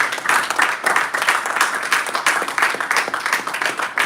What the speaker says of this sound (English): Please, that same applause and energy, let us pass it on to Toastmaster Mercy.